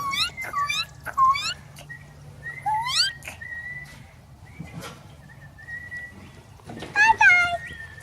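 Cardinal calling outdoors in nature: a few clear, sweeping whistled notes in short bursts at a moderate distance, with quieter people talking in between and a low background hum.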